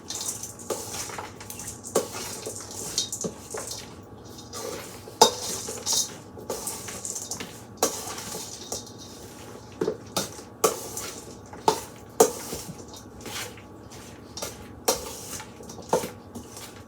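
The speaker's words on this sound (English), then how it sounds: "I'm going to give that a stir." A spoon stirs broccoli salad in a bowl, giving repeated scraping and clinking strokes against the bowl at a steady rhythm for about seventeen seconds, with no talking.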